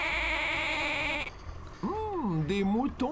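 Cartoon sheep in the Spy Fox 2 video game bleat in wavering, pitch-bending calls, several overlapping in quick succession after a sustained tonal musical passage.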